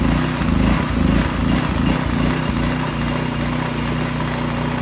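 A small generator engine runs steadily at a fast, even idle, its throttle in need of adjustment; the loud mechanical drone holds near and constant throughout with no talking.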